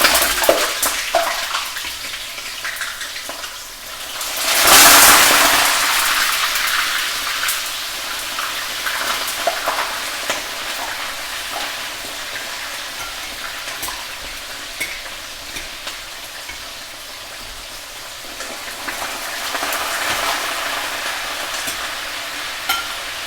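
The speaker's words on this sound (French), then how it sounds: "Nous allons maintenant griller le poisson." Salted cod frying in a pan, a steady sizzle with faint stirring and clinking throughout, a brief louder burst of hiss near the start, no talking.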